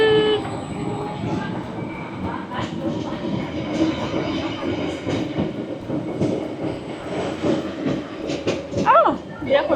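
Passenger train running on rails during a trip in Busan, Korea, heard as a steady rumbling carriage noise with mechanical clatter, people talking nearby throughout and a brief rising tone near the end.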